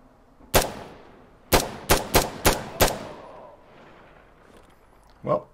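Six sharp rifle shots crack out in a loose burst in a tactical shooter, Insurgency Sandstorm, with a fainter shot near the end and low background rumble between them; no one talks.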